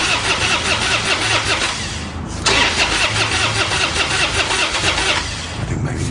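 A car engine cranks and starts, then runs loud and close with a steady, rough mechanical roar and a brief dip partway through, with no one talking.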